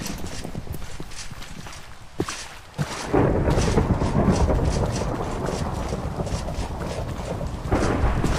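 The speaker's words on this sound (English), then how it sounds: "Wow, it's thunderstorm." Thunderstorm with steady rain in the video game Minecraft, a loud rumbling thunder crash breaking in around three seconds and heavy rain hissing continuously through the rest.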